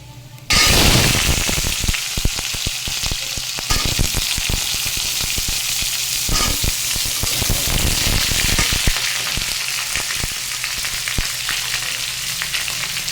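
Vegetables and cumin seeds frying in hot oil for a moong dal with soybean give a loud, steady sizzle that bursts in suddenly and keeps crackling throughout, with occasional stirring clatter and no talk.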